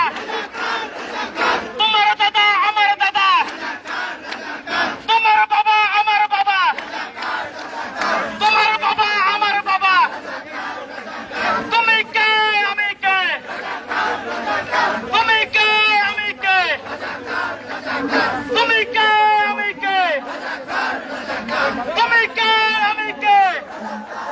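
Large crowd of students chanting slogans in unison at a protest rally at Dhaka University, loud repeated call-and-response bursts in a steady rhythm over about two dozen seconds.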